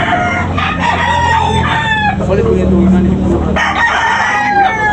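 White Kelso gamecock roosters at a sale in Tabunok, Talisay, crowing loudly and close, several overlapping calls amid clucking and a busy background.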